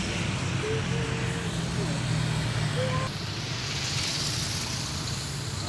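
A Berkah Jaya tourist bus travels along an Indonesian road, with a steady, loud broadband rumble of engine and road noise that holds for about three seconds and then eases slightly.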